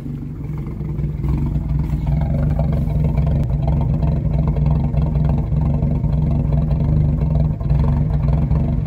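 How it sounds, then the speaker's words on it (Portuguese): A Chevette 1.4 car engine that burns a lot of oil runs close by with a steady, gruff rumble and mild swells in revs, with no voices over it. "O funcionamento do motor,"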